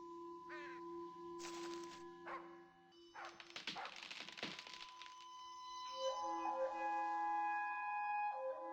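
Large black crows caw in The Lost Crown video game, a few harsh calls spaced apart over a quiet ambient drone, with a crackling burst in the middle.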